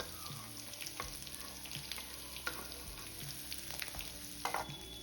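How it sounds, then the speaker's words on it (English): Onions and green chili sizzle steadily in hot oil for tomato daal, a close, continuous frying hiss broken by a few soft clicks of stirring. "Then add onions and green chili."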